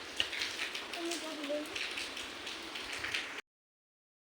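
Heavy rain pours steadily as a dense, even hiss for over three seconds, with faint voices under it, then cuts off abruptly to silence.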